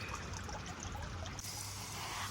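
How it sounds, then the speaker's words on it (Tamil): A tap runs slowly, giving a faint, quiet trickle of water with a soft continuous hiss and no voices. "தண்ணியை நிறைய திறந்தாவான் காசு கையில் சேராதாம் அப்படியாம்மா அதனால் மெல்லமாக திறக்கணுமா"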